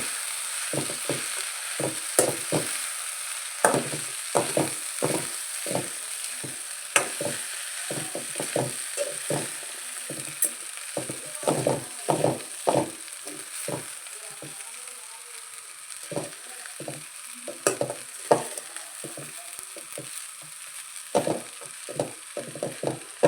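Beaten rice seasoning (avalakki) being stirred and fried in a pan, with a steady sizzle under many quick, irregular scraping taps of a spoon against the pan, close and continuous.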